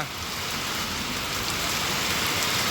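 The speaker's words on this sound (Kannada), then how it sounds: "ಮಳೆ ಎಷ್ಟು ಜೋರು ಮಳೆ ನೋಡು" Heavy rain pours steadily, a dense, loud hiss of drops hitting surfaces with no break.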